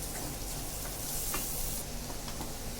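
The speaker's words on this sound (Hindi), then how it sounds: "अब इसमें हम प्याज डालेंगे। इस प्याज को थोड़ा नरम होने तक पकाएंगे" Chopped onion cooking in melted butter in a pan, a steady, soft sizzle and crackle with faint stirring scrapes, heard alone and fairly quiet.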